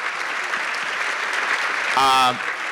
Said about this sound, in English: please give a round of applause to our wonderful panel here